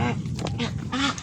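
Ducks on a Vietnamese duck farm fed cooked bran, several nasal quacks in quick bursts close by, with a little background noise between calls.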